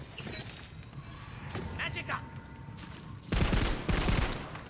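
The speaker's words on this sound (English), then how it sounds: "I'm gonna shoot these things up real quick." Guns fire in the Tiny Tina's Wonderlands video game, with a sharp volley of shots bursting out near the end after quieter game sounds and faint effects.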